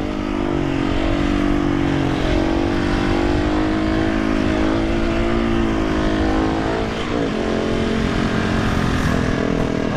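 Motorcycle engine held at a steady high rev while riding a wheelie across a bridge, a loud continuous drone with slight pitch wavers, close and sustained with no talking.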